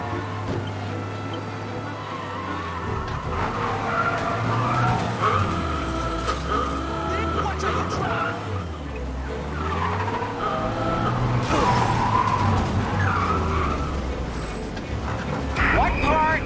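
A car in Mafia Definitive Edition races at speed with a wavering engine drone and repeated tire squeals and skids, overlapped by game dialogue from several voices throughout.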